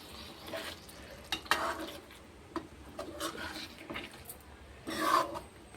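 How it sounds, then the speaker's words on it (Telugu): A spoon stirs chepala pulusu, a tamarind fish curry, in a pot, making quiet scraping and sloshing strokes in irregular bursts, with a brief sizzle near the end. "పులుసు ఒకసారి మెల్లిగా కలిపేసుకొని"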